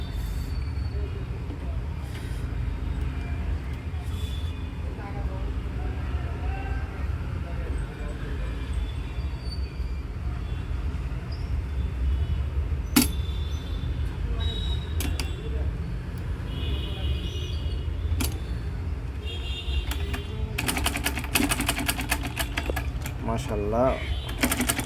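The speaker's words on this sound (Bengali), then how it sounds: "এখন আমরা সেলাই করে দেখব।" A sewing machine in a mechanical repair workshop is tested after adjusting its feed teeth. A steady mechanical hum runs throughout, and a rapid burst of dense stitching clatter comes near the end.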